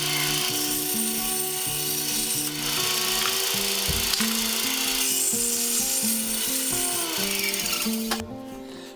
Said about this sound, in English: Now I'm going to use the bandsaw to get the slab cut down even further.